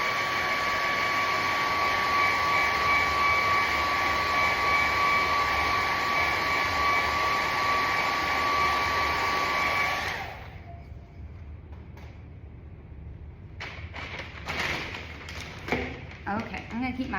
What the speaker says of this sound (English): So I like to grab a blow dryer.